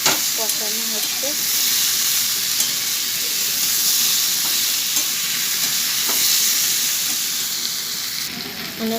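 Steady hiss of ginger, cumin and chilli paste frying in oil, with a spatula scraping and stirring through the pan at close range, no voices.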